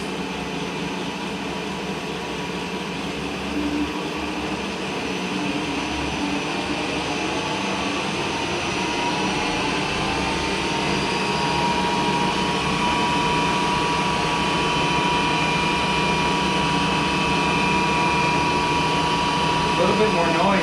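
A huge 1960s lathe runs at 75 RPM on a 60 Hz drive with its feed rod spinning, giving off a steady, fairly quiet mechanical hum and whir that holds evenly throughout.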